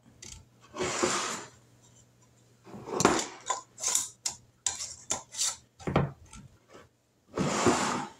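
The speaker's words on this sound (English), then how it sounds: "now we're going to put the lids on here, finger tight" Metal canning lids on glass jars of black beans being screwed on finger tight, a series of close scraping, rubbing twists and small clinks in irregular bursts.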